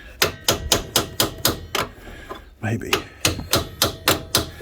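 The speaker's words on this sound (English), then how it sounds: "Finish off with a hammer from here." Hammer blows striking a Polaris Ranger 570 EFI gearbox during removal: sharp metallic hits in quick, even runs of about six strikes, a short pause with a brief spoken word, then another steady burst, close and loud.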